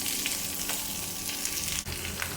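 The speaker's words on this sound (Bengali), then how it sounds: "এখন এগুলো দিয়ে আমরা এখন ভাত ভাজি করে খাবো ফ্রাইড রাইস" Leftover rice from the fridge frying in a pan into fried rice, a constant close sizzle with a brief dip near the end as it is stirred, no talking.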